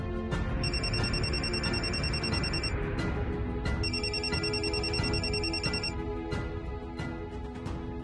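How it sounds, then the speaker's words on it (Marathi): A telephone rings indoors in a Marathi TV serial scene, loud bursts of electronic ringing repeating several times over a steady background hum, with no talking. "शोभाचा फोन."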